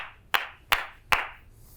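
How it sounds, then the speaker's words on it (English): Three sharp, separate hand claps, used to sync audio for car commentary, land close to the mic at an uneven pace, each one ringing briefly before fading into a quiet room. "Those are some bad claps"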